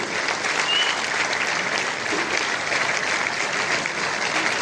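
Sustained applause from a large crowd welcoming an honoured guest at a birthday celebration, steady and dense clapping filling the room without a break, loud and close.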